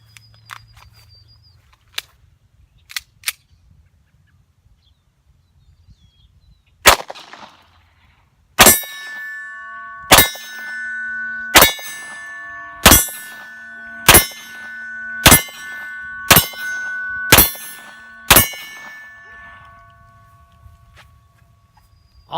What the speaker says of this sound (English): So let's go ahead and shoot 10 rounds